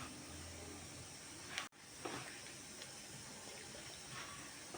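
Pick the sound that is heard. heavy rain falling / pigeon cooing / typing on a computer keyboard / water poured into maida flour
water poured into maida flour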